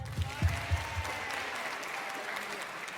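Audience applause at a women and veteran owned business summit in a university hall, a steady wash of clapping that starts with a few louder thumps and a voice, then settles into even, moderate-level applause.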